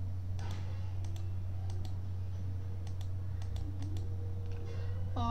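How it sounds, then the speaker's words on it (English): Computer keyboard keys and a left mouse button click in scattered short bursts while selecting slides in PowerPoint, faint against a steady low electrical hum, with no talking. "we use Control key on keyboard and use the left mouse button"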